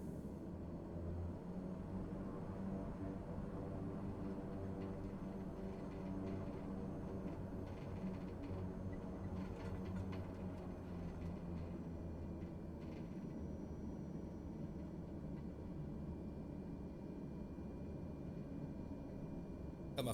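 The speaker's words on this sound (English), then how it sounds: "Got my favorite plane, the King Air." Steady low droning engine rumble from a King Air turboprop taxiing in Microsoft Flight Simulator, constant and moderately faint throughout with no talk.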